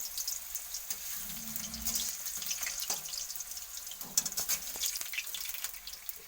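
Water runs from a kitchen tap over freshly cut potatoes to soak them, a steady, soft hiss of flow with occasional clinks and splashes close by.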